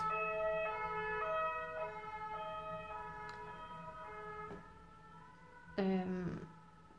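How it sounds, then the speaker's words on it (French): An ambulance siren wails in a steady two-tone pattern, fairly close, then a louder burst near the end as it passes. "Ambulance."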